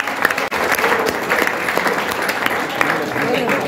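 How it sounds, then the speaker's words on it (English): A graduation audience at a data science fellowship ceremony claps loudly and continuously, a dense crowd of hands with sharper individual claps standing out and some voices mixed in. "Please, a round of applause for that."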